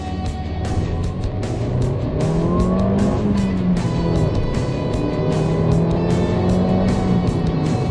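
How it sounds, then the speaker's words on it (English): A Ford Fiesta Zetec accelerates hard with a loud, rasping exhaust note whose pitch climbs, dips at a gear change, then climbs again, heard close and continuous against road noise. "Punch the accelerator and it leaps forward."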